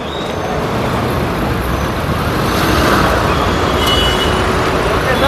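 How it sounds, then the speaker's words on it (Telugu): Two cars pull away in busy traffic near New Delhi. Engines rev under a dense, loud roadway rumble of trucks and buses, and a voice talks faintly over the noise. "కార్లు రెండు కూడా బయలుదేరుతున్నాయి"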